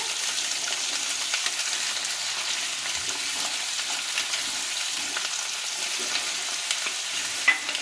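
Potato pieces fry in oil in a pan with a steady, even crackling sizzle that stays close and continuous, with an occasional faint clink near the end.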